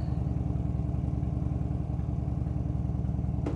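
A motorcycle engine with 1,821 miles on it runs steadily, a low rhythmic idle with a pulsing mid-range clatter, close and continuous with no talking.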